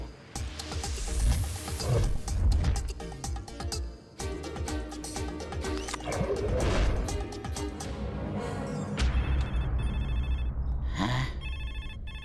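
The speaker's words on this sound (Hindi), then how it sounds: "इन्हें तो फोन भी सुनाई नहीं दे रहा है" Electronic telephone ringtone sounding loud and repeatedly indoors, with clattering, rubbing and crashing noises from nearby objects mixed in, the ringing continuing alone toward the end.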